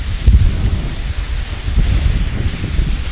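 Strong wind pounds the microphone outdoors in Infanta, Quezon, a loud, low rumbling roar with uneven gusts and no pause across the span.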